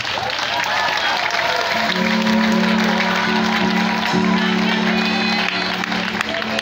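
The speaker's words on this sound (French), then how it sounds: "Au fond d'une salve d'applaudissements, s'il vous plaît." Loud, sustained applause from a large crowd, with cheering and whoops mixed in throughout.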